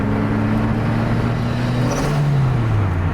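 A turbocharged Lotus Elise engine drones loudly and steadily, its pitch climbing briefly as it accelerates onto a highway, with road noise underneath.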